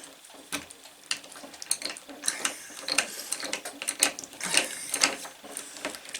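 A ratchet screwdriver drives screws into wood while building a child's art easel: rapid close clicking ratchet bursts in uneven strokes, each followed by short pauses.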